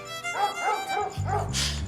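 Pet female dog, a drunk man's dog in a crowded neighbourhood, gives several short yipping barks in quick succession at close range, with no talk over it.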